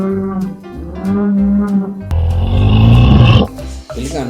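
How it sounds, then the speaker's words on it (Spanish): A bull lows in several deep, drawn-out moos, then lets out a loud, rumbling bellow, heard up close and alone. "El toro"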